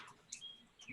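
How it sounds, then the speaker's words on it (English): A chickadee calls faintly in the background, a few soft, high chirps and tweets close together behind quiet room noise. "That sounds like a chickadee."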